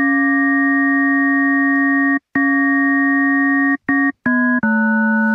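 A steady additive synth tone with stacked buzzy, detuned overtones holds, breaks off briefly, then returns with its pitch and timbre shifting slightly across a few short segments.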